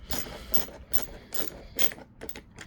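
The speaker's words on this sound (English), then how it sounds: "a ratcheting screwdriver makes this a lot easier" A ratcheting screwdriver drives a screw into the handle of a Bissell PowerForce 1739 bagged vacuum, giving close, quiet bursts of rapid ratchet clicks in a stop-start rhythm.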